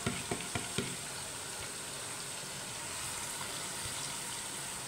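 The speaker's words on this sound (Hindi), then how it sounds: "अब हम इसमें दाल डालते हैं और फ्राई करते हैं।" Dal poured into hot oil in a dhaba-style fry, a few sharp clinks at the start and then a steady, close, dense sizzle that holds at an even level throughout.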